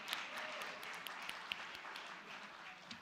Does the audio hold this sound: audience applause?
yes